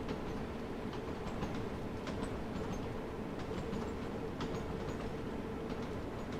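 A London Underground Bakerloo Line train in the game Train Sim World 2, heard as a steady, fairly quiet rail rumble with faint clicking wheel noise and no pauses.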